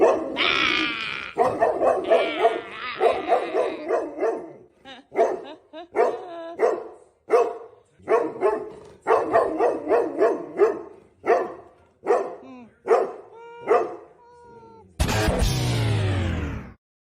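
A pet dog barks loudly and close by in a long series of sharp, rhythmic barks with brief pauses, ending in a drawn-out whine or howl, with no talking.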